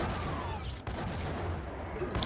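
Rocket launcher fire and blasts in the classic DOOM shooter, aimed at a Revenant, heard as a steady rumbling roar of explosions with a sharp crack midway, dense and loud throughout.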